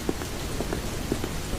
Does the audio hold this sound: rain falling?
yes